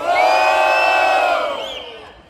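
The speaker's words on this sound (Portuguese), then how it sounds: "Quem acha que MH levou esse round, mão pra cima e barulho" A large crowd at a Brazilian rap battle roars and cheers loudly for a couple of seconds, with whoops and shouts rising over the noise before the din fades.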